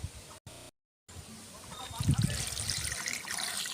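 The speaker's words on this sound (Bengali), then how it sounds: "আমি আমার এই পঁচিশ ইঞ্চি টবে এই দেড় লিটার জল দিয়ে দিলাম আর একটু দিব দু লিটার জল দিয়ে দিব" Water poured from a jug into a 25-inch plant pot, heard after a brief dropout as a close, steady trickle and splash that builds over the last couple of seconds, with a little background voice.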